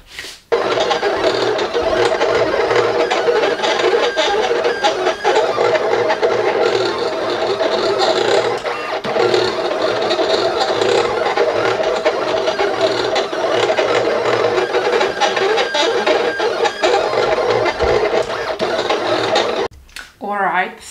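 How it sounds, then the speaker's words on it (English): A Silhouette cutting machine works across a cutting mat in a craft studio, giving a steady close motorized whirr with rapid rattling and stuttering carriage movements for about twenty seconds before it stops abruptly. "put it on my cutting mat and ask my lovely Silhouette to cut it."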